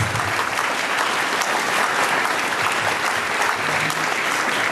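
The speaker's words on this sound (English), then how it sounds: "I'd like you to give these commissioners a round of applause" Steady, full applause from a dinner crowd at a black-and-white dinner dance fundraiser, honoring commissioners; a dense, even wash of clapping that holds constant throughout.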